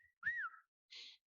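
A human voice imitates a whistling sound of air passing through a doorway, a rising-then-falling whistled tone followed by a short breathy hiss, quiet and close.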